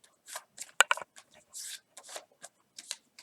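Folded paper for an origami crane is creased with crisp, close rustles and sharp rubbing swipes in short irregular bursts between silent gaps.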